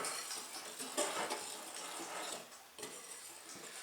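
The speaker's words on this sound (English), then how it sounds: "You just whisk the cornstarch into the flour." A whisk working cornstarch into flour in a bowl for orange juice waffle batter: quiet, continuous scraping and light ticking strokes against the bowl, steady and close, with no talk.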